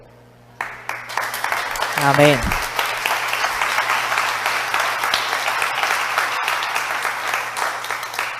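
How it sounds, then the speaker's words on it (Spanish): A church congregation claps loudly and continuously, the applause swelling early and holding steady; a voice speaks briefly over the clapping near the start. "Dele fuerte ese aplauso al Señor"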